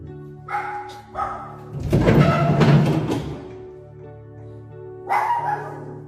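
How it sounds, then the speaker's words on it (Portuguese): A dog barks several times nearby, a couple of short yips and then a louder, rougher burst of barking, followed by a pause and one more bark. "meu cachorro está latindo aqui"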